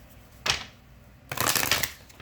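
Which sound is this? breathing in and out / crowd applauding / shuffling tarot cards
shuffling tarot cards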